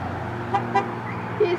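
A car horn gives a few short toots on a road, mixed with engine noise and voices talking inside the car.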